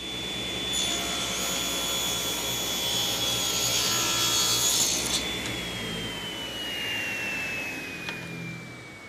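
A table saw rips a thin 1/8 inch strip of wood through a thin strip ripping jig, a loud steady whine with dense cutting noise that builds, then the blade note drops as the cut finishes, with no talk.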